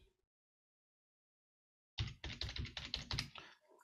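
Someone types a dummy serial number on a laptop keyboard, tapping out a quick, close burst of keystrokes after a silent pause, with no talking.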